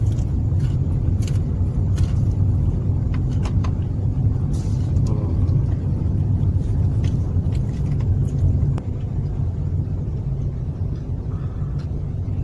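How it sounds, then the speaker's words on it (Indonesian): A Damri bus idles in a parking area at a historic temple site, giving a steady low engine rumble with traffic noise, loud and continuous, easing slightly near the end. "Ini areal parkir. Ini ada bus Damri di sini."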